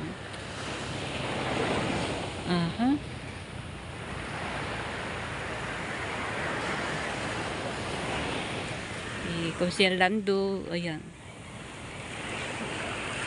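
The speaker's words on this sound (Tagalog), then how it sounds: "Ito na ang aming dagat." Sea waves wash steadily on a calm, flat stretch of shore, a continuous broad surf rush with wind buffeting the microphone, and short bursts of a voice break through twice.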